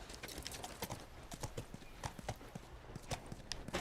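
Rapid clip-clop of horse hooves in the video game The Last of Us, steady and close, with a faint whinny-like texture in the background and no talking.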